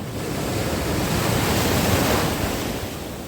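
Sea waves break steadily on the shore at Odesa on a foggy day, a loud, continuous wash of surf with wind noise and no voices.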